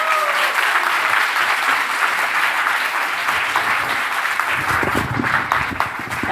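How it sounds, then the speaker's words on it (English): An audience gives a round of applause at a talk on the translation and interpreting industry, a loud, sustained burst of crowd clapping with a few voices emerging near the end. "Let's give a round of applause to Christine"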